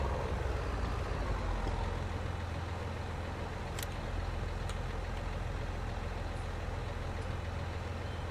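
The diesel engine of a JCB farm machine with a trailer hitched runs steadily in Farming Simulator 19. It is a constant low idling rumble with a couple of faint clicks and no talk.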